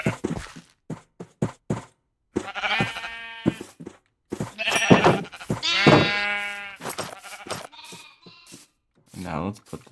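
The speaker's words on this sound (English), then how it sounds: "Let's breed up these sheep one more time." Sheep bleat repeatedly in a video game, several drawn-out, wavering cries close by, spaced with short gaps and soft thuds between them.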